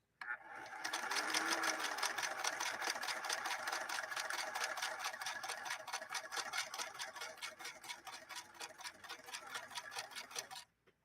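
A Singer Merritt sewing machine from 1872 stitches a zigzag through velvet, a steady rapid mechanical clatter of needle strokes running for about ten seconds at a held-back, even pace before stopping, with no talking.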